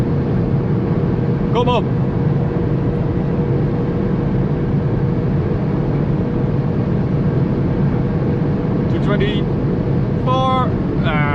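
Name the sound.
BMW 1 Series car driving fast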